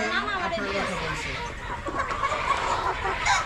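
Many chickens cluck and chatter on a poultry farm, a continuous close-up din of hens with a voice talking over it.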